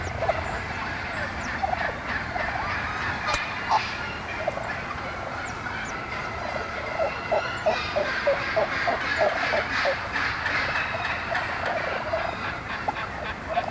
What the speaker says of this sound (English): There's turkeys all around him.